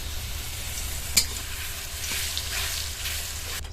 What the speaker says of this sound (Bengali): ওই ঘিয়ের মধ্যে আমি দিয়ে দেবো একটা তেজপাতা আর দুটো এলাচের মুখ ফাটিয়ে নিয়েছি দিয়ে দেবো